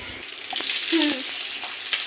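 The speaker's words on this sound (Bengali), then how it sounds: "এবার দেখুন ডিমটাকে লাল লাল করে ভাজি করে নিয়ে" An egg frying in a pan gives a soft, steady sizzle with light stirring scrapes, close and fairly quiet, with no talking over it.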